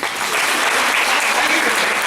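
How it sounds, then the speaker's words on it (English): An audience applauds for a student's answer in a classroom setting, a short burst of dense, loud clapping. "Clap for her, please."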